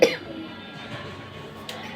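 A person coughs from a cold: one sharp, close cough bursts out at the start, then fades into quiet breathing and low room noise, with a faint second throaty sound near the end.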